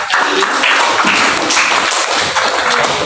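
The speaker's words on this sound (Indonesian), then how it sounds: "Tepuk tangan dulu, guys." An audience in a classroom teaching session claps in dense, sustained applause that stays loud and steady for about three seconds, with no clear talking over it.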